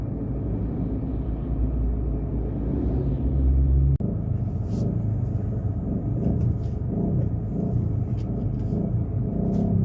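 A bus rumbles along a road being cemented in Sipalay City, a deep engine drone that swells and then shifts character as it passes nearby, with steady road noise throughout.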